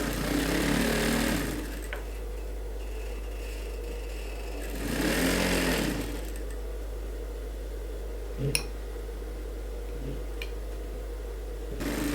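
A sewing machine stitching a suit runs in two short bursts that ramp up and fade, with a steady background hum between them and no talk.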